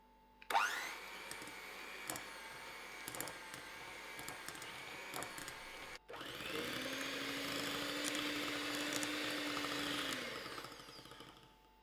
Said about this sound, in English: Now I am going to cream my butter for 5 minutes using my whisk.